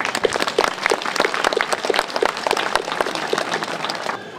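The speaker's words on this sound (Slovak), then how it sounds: "myslím, že si zaslúžia od vás všetkých naozaj ešte jeden veľký potlesk." Audience at a local event in Trenčianske Teplice applauds volunteer firefighters, a dense, continuous wash of many hands clapping at moderate distance that tapers slightly at the end.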